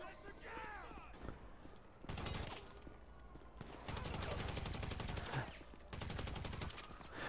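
Rapid gunfire in the video game GTA as a cop is shot, coming in three loud, sustained bursts after a stretch of talk, separated by short quieter gaps.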